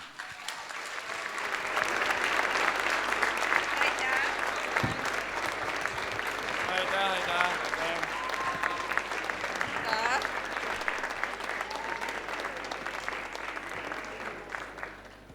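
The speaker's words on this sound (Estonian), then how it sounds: "täname veel meie žüriid ühe sooja ja suure aplausiga" A theatre audience at the 2019 Playback Show applauds the jury with warm, sustained clapping that swells, holds steady for many seconds and then fades toward the end.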